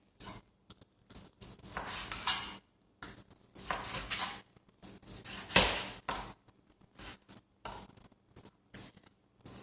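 Raw chicken thighs being cut into pieces with kitchen scissors, giving a series of short, close snips and clicks in irregular bursts with quiet gaps between them.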